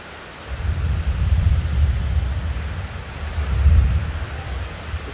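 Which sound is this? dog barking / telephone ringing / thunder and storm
thunder and storm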